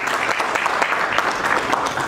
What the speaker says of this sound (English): Please give a big round of applause to Adil